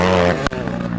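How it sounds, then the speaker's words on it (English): A dirt bike ridden through muddy whoops lets out one sharp backfire pop, a brief loud crack that cuts through the steady, close, rumbling drone of the engine. "Whoa, backfire."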